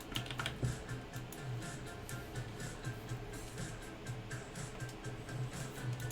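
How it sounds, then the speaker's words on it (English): Typing on a computer keyboard during a coding session, steady quiet clicking of keys heard close up with no talking. "I am getting really bad at typing."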